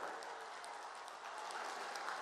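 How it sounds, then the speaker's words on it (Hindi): Dense, sustained crowd applause at a political rally in Agra, Uttar Pradesh, an even roar of many hands clapping at moderate distance, continuous across the whole stretch. "फिर एक बार तालियां बजाइए भाइयों"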